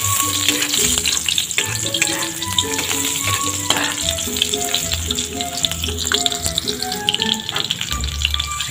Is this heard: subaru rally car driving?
no